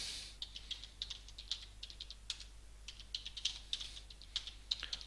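A password being typed on a computer keyboard: quick, irregular runs of light plastic key clicks, close and fairly quiet over a faint steady hum, with no talking.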